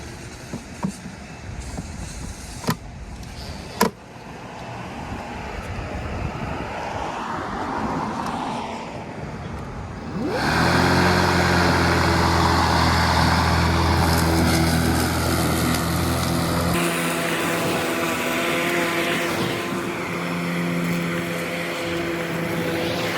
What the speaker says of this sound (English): I will put into the lawnmower to test.